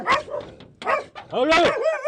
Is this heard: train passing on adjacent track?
no